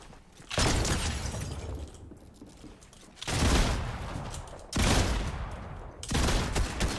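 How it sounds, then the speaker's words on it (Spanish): Four heavy, roaring shotgun blasts from a slow-firing Fortnite shotgun, each with a long, noisy tail and spaced more than a second apart. "¡Qué escopeta chota esta, boludo! Dispara re lento, boludo."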